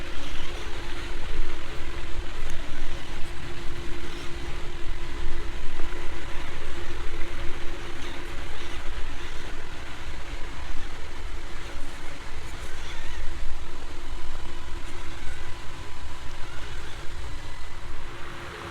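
A small Axial Capra UTB 1/18 two-wheel-steer RC buggy creeps along at a slow crawl, its electric motor giving a steady, faint whine and hum with constant low rumble throughout, no voices.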